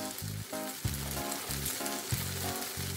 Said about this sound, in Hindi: अब हमें मसाले को भी भूनना है